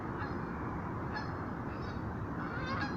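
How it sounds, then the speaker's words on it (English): A duck gives several faint honking calls spaced across the stretch over a steady outdoor background murmur, with no one speaking. "And of course, there's the duck."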